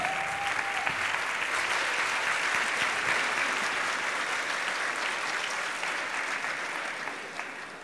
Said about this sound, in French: on l'applaudit, on l'accueille.